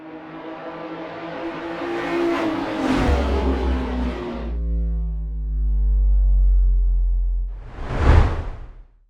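A car drives by with a smooth, rising engine tone that holds steady for a few seconds, then fades. A short, loud whoosh follows near the end.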